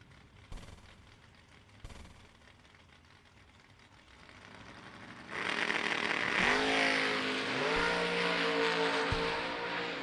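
A Chevy II and an Oldsmobile at a vintage drag race, quiet crowd ambience giving way to a loud roaring engine launch, with rising revs and gear changes sweeping upward several times as the cars pull away.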